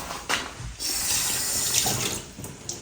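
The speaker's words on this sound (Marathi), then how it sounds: "वरती थोडीशी कोथिंबीर ऍड करणार मी स्वच्छ धुवून घेते" Fresh coriander is rinsed under a running kitchen tap, a close, steady splashing gush of water lasting a few seconds with slight changes as the leaves move through the stream.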